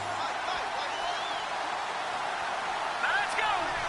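Steady roar of a stadium crowd in an American football video game, a home-field crowd loud enough to drown out the snap count in a Raiders vs Browns matchup, a continuous dense wash with a brief swell near the end.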